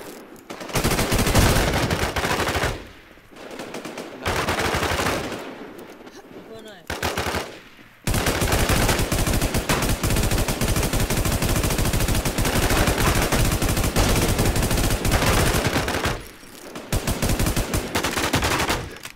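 Automatic gunfire in the online zombie survival game Infestation, a loud near, sustained machine-gun stream in long bursts broken by a few short gaps, with a voice talking over parts of it.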